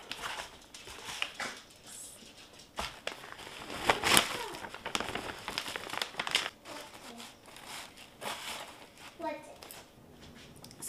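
Paper bag crinkling and rustling as it is tucked around the edges of a dollar-store bin being lined for growing potatoes, in repeated crackling bursts under a person's voice talking.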